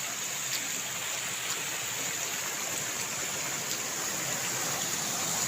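Floodwater left by a flood and landslide in the rural countryside rushes past in a steady, unbroken roar of flowing water, close and continuous with no voices over it.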